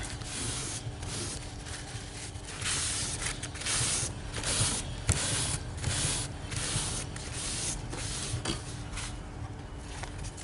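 A spray bottle mists a wet-embossed card in a long, steady hiss that keeps going with slight pulses, close and fairly loud, with no talking.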